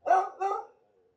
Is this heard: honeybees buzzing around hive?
no